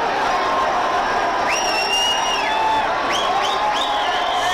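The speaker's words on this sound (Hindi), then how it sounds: "सीटियां बजाई जा रही है," A large roadside crowd at Team India's cricket victory parade keeps up a loud, continuous roar, with several long rising whistles cutting through it.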